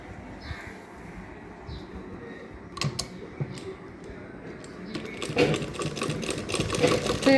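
A sewing machine stitches a cloth bag, starting with scattered clicks and short bursts before settling into a continuous, close, rapid whirring run that grows louder toward the end.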